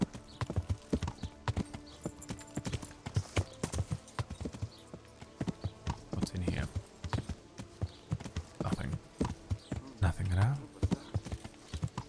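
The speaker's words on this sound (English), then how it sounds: "It's a man on a horse." Horse hooves clip-clop steadily in the medieval role-playing game Kingdom Come: Deliverance, close and rhythmic over an ambient game backdrop, with a brief whinny near the end.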